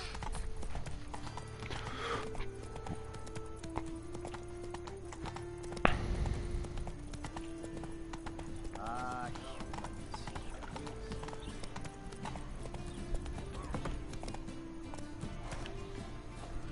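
A horse gallops in The Witcher 3 with steady, rhythmic clip-clop hoofbeats that continue throughout. A faint whinny and a brief thud can be heard over a quiet ambient background.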